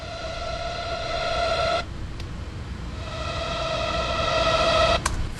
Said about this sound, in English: I added this siren in the background.